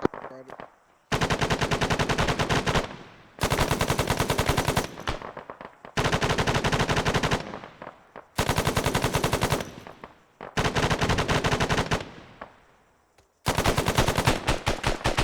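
Machine gun fire in the video game ArmA 3 comes in five long, loud, rapid bursts separated by short silences and tailing echoes, heard close.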